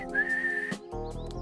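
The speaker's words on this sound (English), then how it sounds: "I finally got it. And now I can whistle." A person whistles a sustained steady tone, loud and close, lasting over half a second, followed by a few shorter rising whistle notes over a low background hum.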